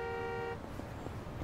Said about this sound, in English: Don't you honk at us.